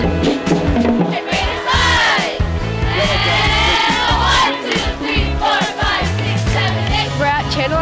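A dense stadium crowd at Channel Islands High School's homecoming football game at Kent Benefield Stadium roars and yells continuously, loud and close, with individual shouts and cheers rising above the steady din.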